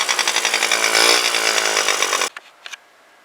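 A 2001 Honda Elite scooter engine, revived after years of sitting, runs roughly and struggles with the rear brake on, a loud pulsing buzz for about two seconds before it cuts out, leaving only a couple of faint knocks.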